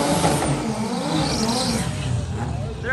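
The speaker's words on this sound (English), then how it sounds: "He does not have first gear anymore, so he's launching in second gear." A drag race car with no first gear launches in second gear during PCSA eliminations on a freshly prepped track, producing a loud, dense, continuous engine roar.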